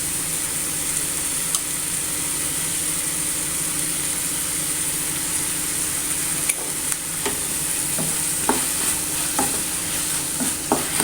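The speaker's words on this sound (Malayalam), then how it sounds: "ഇനി നന്നായി ഒന്ന് വഴറ്റിയെടുക്കുക" Tomatoes sauté in a pan for a Kerala Vishu dish, giving a continuous loud sizzle with a low steady hum beneath and a run of sharp spoon scrapes and knocks in the later part; close-up, no voices.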